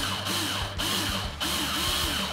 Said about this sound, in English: that's just two pieces of wire twisted together with the drill